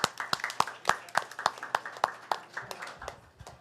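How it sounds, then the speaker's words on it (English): Small group applause at an ISOC members meeting, a few people clapping in a sparse, uneven rhythm with individual claps clearly separated, fading after about three seconds. "So an applause for her."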